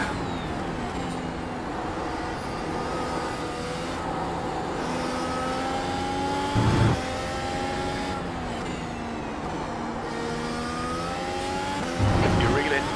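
A race car circles Spa-Francorchamps on a warm-up lap on fresh tyres in iRacing, its engine droning steadily with rising and falling pitch through gear changes and corners, brief louder bursts, and a commentator speaking throughout.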